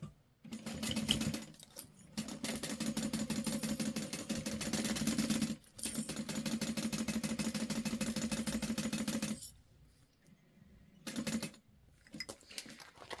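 A sewing machine stitches a clear vinyl beauty bag with a steady, loud motor hum and rapid needle chatter in long runs, pausing briefly near two seconds and six seconds, then stopping, with a short final burst of stitching.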